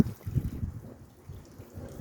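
Hot water is poured off boiled eggplants and peppers for makdous, a close, uneven splashing and gurgling pour that surges at the start and then thins to a softer trickle.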